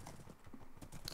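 Horse hooves clip-clopping in Minecraft, a quick, steady run of light thuds at moderate volume with no speech.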